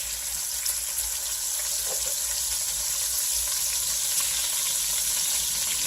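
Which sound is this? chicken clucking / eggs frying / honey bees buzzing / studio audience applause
eggs frying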